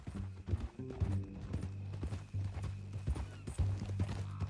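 In the video game Red Dead Redemption 2, a steady clip-clop of horse hooves at a walking pace, close and clear, over a low droning background hum.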